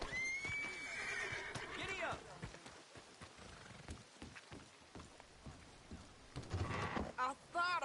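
A horse neighs and whinnies loudly in Red Dead Redemption 2, with hooves clip-clopping and rain falling, and speech mixed in, the whinnies rising clearly near the start and again near the end.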